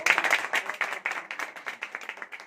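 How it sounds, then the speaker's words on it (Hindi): Steady rapid clapping from a seated meeting crowd honouring someone, many hands overlapping in a dense, continuous patter at moderate loudness, no talk. "तो मैं चाहूंगा इनके सम्मान में जोरदार तालियां हो जाएं।"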